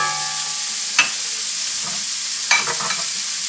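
Pancetta crisping in a pan over low heat, a steady soft sizzle with two brief stirring scrapes, close by, no talking.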